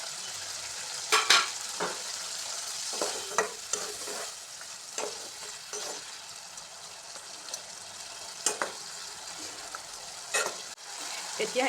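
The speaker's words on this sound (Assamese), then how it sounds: "এতিয়া ইয়াতে মই আগত ভাজি ৰখা শুকান মাছখিনি দি দিছোঁ।" A spatula stirs previously fried dried fish into a tomato curry in a pan, giving repeated scraping strokes over a soft, continuous sizzle.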